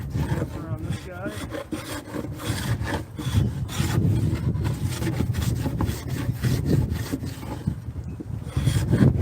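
An old rusty Stanley hand plane shaves along a wooden beam in repeated rough, scraping strokes, close up and steady, getting louder toward the end.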